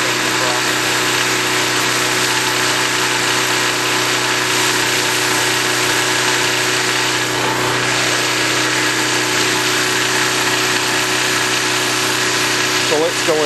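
Portable generator running steadily, not yet warmed up and powering a couple of lights: a loud, continuous engine drone with a buzzing mechanical hum that holds throughout, close to the listener.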